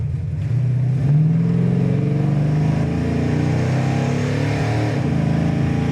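A 1970 Dodge Super Bee with a 440 engine accelerates through the gears on a highway, a loud, steady V8 roar rising in pitch, easing off at each shift and climbing again.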